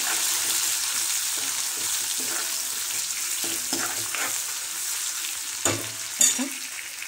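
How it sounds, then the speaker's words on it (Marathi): Garlic and tomato fry in a pan for a dal preparation, giving a steady close sizzle with scattered stirring scrapes and a couple of louder clanks near the end, no talking. "लसूण पण छान याच्यावर तळला जाईल"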